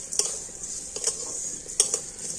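A spoon stirs a ripe palm fruit and sugar filling in a pan, giving light metallic clinks and scrapes at irregular intervals over a faint background hiss, close and quiet.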